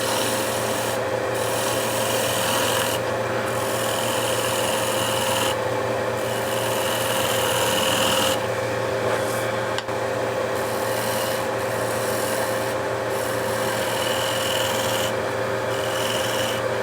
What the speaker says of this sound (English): So let me just shear scrape this.